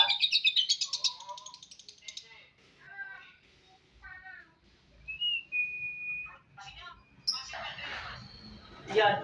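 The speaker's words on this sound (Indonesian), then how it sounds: "Itu burungnya bunyi Mas." A lovebird chirps and whistles in bursts, with a rapid trill at the start followed by scattered tweets and a sustained whistle, all fairly close and set against a quiet background.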